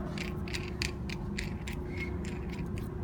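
Nut being tightened on a spindle sander shaft: a steady run of small metallic clicks and ratcheting ticks over a constant low hum, close by, with no talking.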